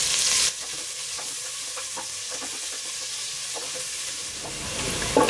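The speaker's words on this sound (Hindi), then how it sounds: "प्याज को हम थोड़ा सा ब्राउन कर लेंगे" Finely sliced onions fry in hot oil, making a constant broadband sizzle with soft stirring scrapes throughout. A loud hiss bursts at the start, right as they hit the pan.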